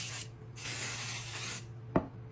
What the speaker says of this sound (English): we're gonna spray with our trusty spray